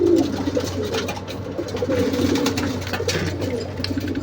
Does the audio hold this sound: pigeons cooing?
yes